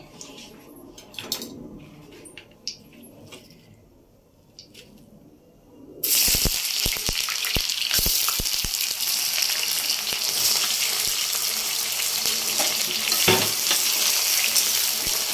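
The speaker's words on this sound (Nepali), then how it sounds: "अनि बल्ल यसमा हामी प्याज हालेर मजाले फ्राई गर्ने" Onions hit hot oil with bay leaves in a pan for chicken curry, bursting into a loud, dense, continuous sizzle after a few quiet seconds of light handling sounds, with occasional stirring clatter.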